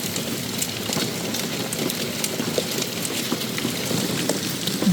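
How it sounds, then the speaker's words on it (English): Hail and rain drumming on a 1995 Casita camper, a dense constant patter of hits on the roof, loud and close, with no voices. "It's starting to hail."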